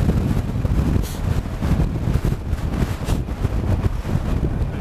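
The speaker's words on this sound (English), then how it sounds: "And get out of this bloody wind." Strong wind buffets a microphone outdoors while crossing Shap, producing a loud, continuous low roar and rumble with gusty surges throughout and no voices.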